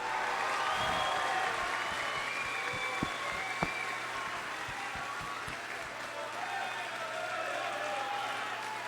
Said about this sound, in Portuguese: Eu queria pedir uma salva de palmas, porque chegou aqui um imenso líder do Estado